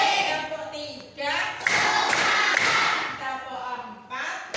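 A classroom clapping game in which a group claps in a quick rhythmic burst of several sharp claps, loud and close, with a voice speaking before and after.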